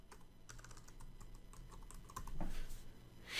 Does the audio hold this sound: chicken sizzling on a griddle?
no